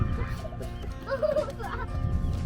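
Several free-range laying hens clucking and calling in bursts against a low outdoor background rumble, on a farm in Gillette, Wyoming.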